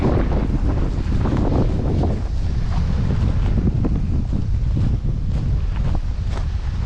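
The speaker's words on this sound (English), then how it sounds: "Holy moly, this wind is crazy." Strong, gusty wind roars continuously into the microphone beside a creek along a railway line, a loud and steady buffeting rush that never lets up.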